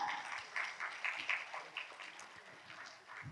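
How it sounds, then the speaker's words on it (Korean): Very faint audience applause at a provincial council award ceremony in South Chungcheong, Korea, a thin patter of hands clapping continuously in the background with no voices over it. "여러분 축하의 박수를 부탁드리겠습니다"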